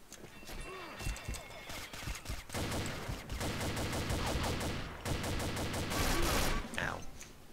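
G36 assault rifle firing in the online shooter Combat Arms: dense, rapid automatic bursts that roll on almost continuously, loud and close, with short breaks near the start and middle.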